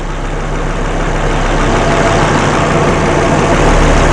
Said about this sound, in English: You hear engine right now change his RPM as much as he wants